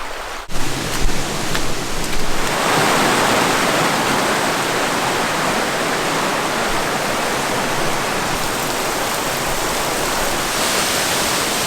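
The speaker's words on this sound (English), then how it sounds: "until we get to some sort of waterfall" Big Burn Falls in Scotland pours out a loud, steady roar of falling water that stays constant and close after a brief disturbance at the start, with no voices.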